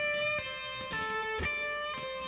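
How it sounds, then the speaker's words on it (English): A short electric guitar connector lick shifts across to a different set of strings, with a few picked notes sustaining and overlapping, soft and unaccompanied. "Now use the connector lick to jump to a different set of strings."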